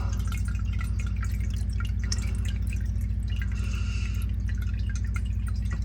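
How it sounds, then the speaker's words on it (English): Diesel drips steadily from an old 1974 Pontiac Ventura V8 engine as it flushes out garbage, a dense run of small close wet taps over a constant low engine-bay hum. "So that's diesel flushing garbage out."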